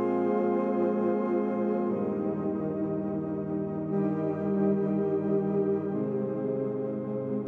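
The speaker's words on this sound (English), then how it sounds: "we have these analog chords, and they're pretty much big pads" Sustained analog synth chord pads with a bass layer underneath, built for a track; chords change roughly every two seconds, steady and full, with no voices.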